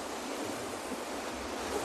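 Very large waves breaking on a rocky South Sea coast produce a dense, continuous roar of surf, steady and loud with no gaps, mixed with some wind rush.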